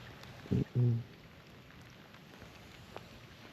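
Steady rain falling on a lake in cold 40° weather during a fishing trip, a soft continuous hiss throughout with a couple of brief louder knocks early on.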